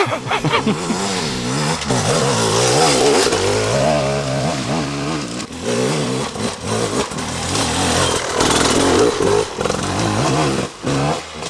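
A 2006 GasGas enduro motorcycle engine revs hard and continuously close by, rising and falling in pitch with throttle changes and brief dips, loud throughout with no talking.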